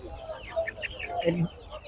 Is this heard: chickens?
yes